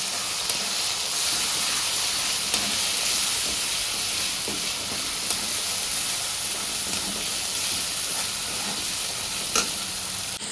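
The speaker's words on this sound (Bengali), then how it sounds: "হলুদ দিয়ে দেবো, একটুখানি লাল লঙ্কা দেবো, কষিয়ে নিই ভালো করে।" Spices with turmeric and red chili frying in oil in a pan, a steady loud sizzle and hiss running throughout, with occasional stirring scrapes close by, no talk.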